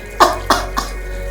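A person coughs during a throat massage, three short, close coughs in quick succession that grow weaker, each a brief rough burst.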